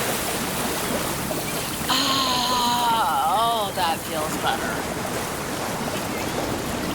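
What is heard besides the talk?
ocean waves washing over someone in the water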